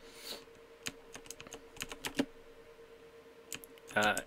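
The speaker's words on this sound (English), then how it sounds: "You probably hear me mashing the keys there." Computer keys are mashed in quick irregular bursts while playing Sword Coast Legends, clacking clicks scattered through the clip, fairly quiet and close, with a brief louder clatter near the end.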